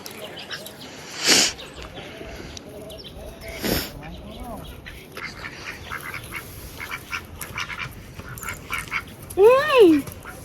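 Ducks quacking and squabbling outdoors in Mexico, with loud harsh bursts of quacks and honks scattered among fainter calls, while people talk in the background.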